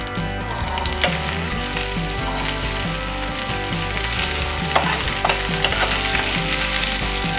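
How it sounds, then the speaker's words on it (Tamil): Mustard seeds and chana dal sizzle steadily in hot oil for a South Indian semiya tempering, a dense continuous frying hiss with occasional sharper pops and stirring sounds, fairly loud and close throughout, with no talking. "கடுகு மற்றும் கடலைப்பருப்பு போட்டு தாளிச்சிடலாம்"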